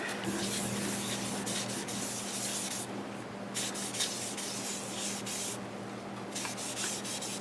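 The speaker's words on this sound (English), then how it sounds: "the first coat of sanding sealer going on" Steady soft rubbing and hissing as sanding sealer is wiped onto spinning walnut on a wood lathe, with a constant low motor hum beneath and brief pauses in the strokes.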